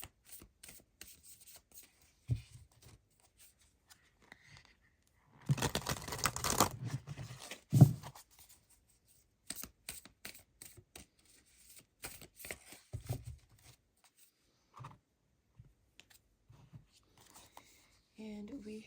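Tarot-style Moonology message cards being shuffled, with a burst of riffling and flicking in the middle surrounded by scattered soft taps and card handling, close and fairly quiet.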